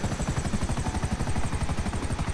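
Helicopter in GTA 5 Online, a steady loud rotor chop with rapid even pulsing throughout, close and continuous with no talk over it.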